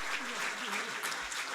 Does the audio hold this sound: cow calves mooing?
no